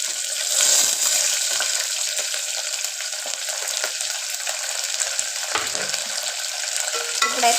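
Curry leaves, onion and green chilies sizzle steadily in a hot pan while a spoon stirs and scrapes through them, a close, continuous frying hiss with no voices.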